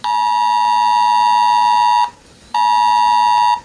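New Zealand emergency alert tone: a loud, steady electronic beep rich in harmonics, sounding alone in two long bursts with a brief half-second gap between them.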